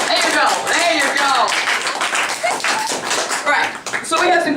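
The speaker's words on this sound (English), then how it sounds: "Let's hear a round of applause." A crowd of students claps for an undefeated eighth grade boys basketball coach, steady, close applause lasting several seconds with voices talking and calling out over it.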